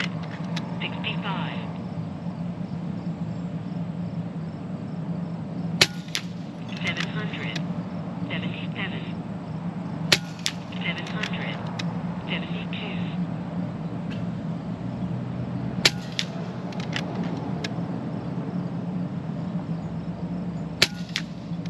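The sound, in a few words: FX Maverick Compact .25 air rifle shooting ZAN slugs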